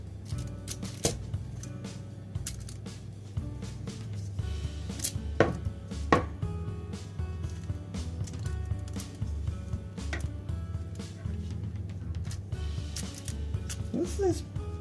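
A knife slicing through grapefruit on a board for homemade soap gives repeated sharp cutting taps at irregular intervals, close and clear, with talking throughout.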